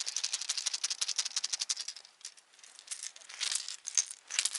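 A fast, bright rattling of small loose balls clattering inside a hollow fishing lure (a wobbler), steady at first, then fading and picking up again in uneven bursts.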